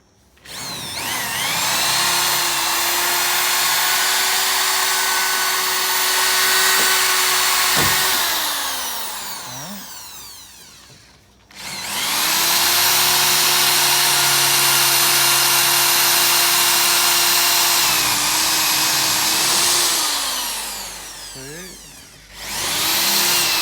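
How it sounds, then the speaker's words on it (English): Electric drill drilling out fasteners on a Liteweight Panorama 506 caravan panel, two long loud whining bursts of roughly ten seconds each, close by, with short pauses between them. "So we're just going to drill these ones out so we don't get ourselves in trouble."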